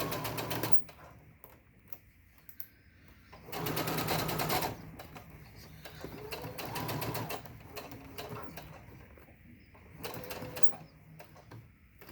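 Home sewing machine stitching a face mask with a filter pocket, in several short bursts of rapid clatter separated by quieter pauses, close and fairly loud.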